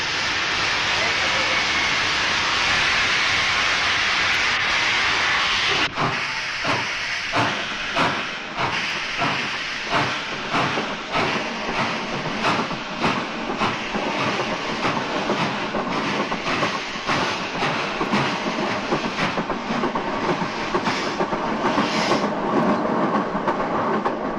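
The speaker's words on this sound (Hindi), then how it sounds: "Number 27 down Varanasi express is now departing from platform number 3." Varanasi Express, the 27 Down, pulls out of a railway platform with a long hiss of steam, then gathers pace into a steady, quickening clickety-clack of wheels over rail joints, loud and close.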